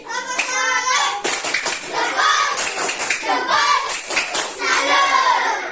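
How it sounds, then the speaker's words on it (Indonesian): Children in an Indonesian classroom join a clapping cheer, rhythmic hand claps mixed with young voices chanting together, loud and close, filling the whole stretch. "kasih tepuk salut buat Syah Menesari"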